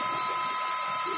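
CNC mill spindle spinning freely and cutting air on a LinuxCNC-retrofitted machine, a steady high mechanical whine with a fine ratcheting texture, close and constant throughout.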